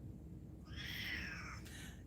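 A cat lets out one drawn-out, faint meow indoors, rising then trailing off over about a second against quiet background hiss.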